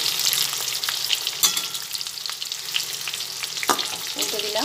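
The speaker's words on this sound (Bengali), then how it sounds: "আর একটা দিকও এরকম লাল লাল করেই ভেজে নেব।" Chicken snack pieces, just turned over, fry in hot oil with a lively, continuous sizzle, broken by a couple of sharp utensil clicks and spatters.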